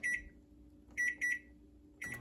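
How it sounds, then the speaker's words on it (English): A microwave oven cooking on high hums low and steady while it emits a series of short electronic beeps, one, then two close together, then another. "we're going to put it in the microwave"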